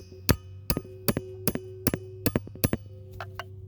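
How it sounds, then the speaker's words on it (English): A hammer strikes a stuck brake drum on a 1996 Ford Escort, landing about eight sharp metallic blows in a steady rhythm, close and loud, each ending in a short ringing tone. "I'm gonna hit this with a hammer"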